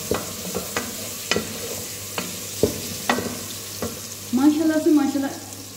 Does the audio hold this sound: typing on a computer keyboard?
no